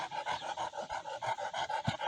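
A young champion-class Bozçaban dog pants rapidly and rhythmically close by, short quick breaths repeating evenly with no other sounds.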